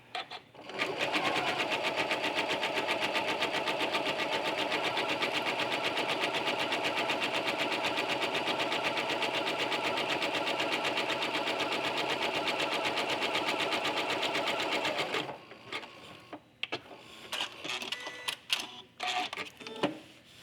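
Sewing machine stitching together scraps of quilt batting, a steady fast mechanical whir running loud and unbroken for about fifteen seconds, then stopping into scattered handling clicks and rustles.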